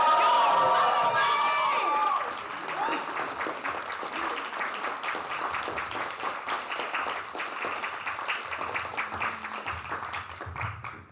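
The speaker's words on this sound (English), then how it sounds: "Everyone, please give another round of applause for your winners" A large crowd at a Splatoon 3 LAN tournament grand finals applauds and cheers the winners, loud at first with shouts, then settling into steady sustained clapping.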